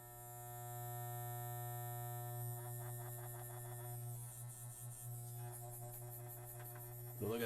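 An old Wahl electric hair clipper switched on and left running, a steady close mains-pitched hum and buzz with faint rattling pulses, ending in a louder clunk.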